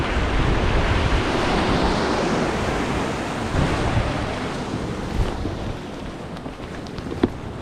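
Strong coastal wind during winter lure fishing roars across the microphone as a heavy continuous rumble, mixed with surf noise, easing slightly over the seconds with a few brief gust thumps.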